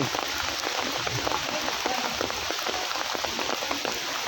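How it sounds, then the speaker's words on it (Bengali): Heavy rain pours steadily onto surfaces, a dense continuous patter of drops with scattered louder splashes, close and even throughout. "ওনার বয়সে উনি দেখে নাই এরকম বৃষ্টি"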